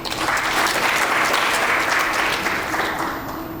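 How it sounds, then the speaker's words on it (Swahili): Steady, loud applause from an audience at a mining sector event in Tanzania, a dense wash of clapping that holds evenly throughout and tapers slightly at the end. "Tuwapigie makofi."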